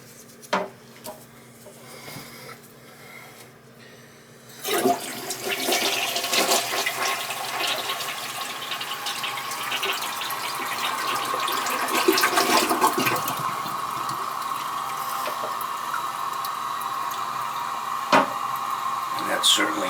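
After a few quiet clicks, an old, non-water-saving toilet with a makeshift replaced flapper flushes with a sudden loud rush of water that keeps gushing and swirling for a long time, close by.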